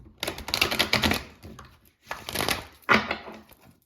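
Dry papery rustling and crisp riffling of tarot cards being shuffled in bursts, with short pauses between, close up.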